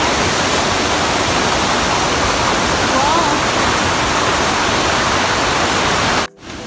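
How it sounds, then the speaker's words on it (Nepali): A waterfall beside a mountain road roars as a loud, steady, broadband rush, close and unbroken, cutting out abruptly near the end. "यो झरनालाई लिन सकिन्छ"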